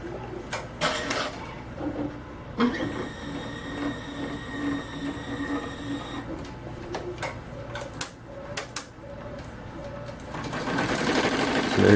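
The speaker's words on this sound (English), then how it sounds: "This is running at 800 stitches per minute right now." A Blue Sky 1501 sewing machine runs steadily at 800 stitches per minute, giving a close, continuous mechanical whir with rapid rhythmic ticking and a few sharper clicks throughout.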